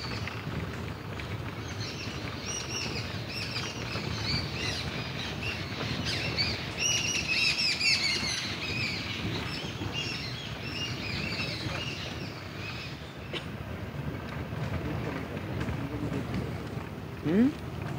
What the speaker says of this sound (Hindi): तो शाम को कैसे चहचहाट शुरू हो जाती है पंछियों की, अपने घोंसले में वापस आ जाते हैं सब।